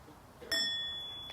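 A single meditation bell gives a soft half sound: one clear metallic strike with a high ringing tone that decays slowly in a quiet room.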